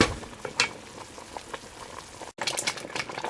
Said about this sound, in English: It's all boiled in there. It's boiling away. It's spitting up all over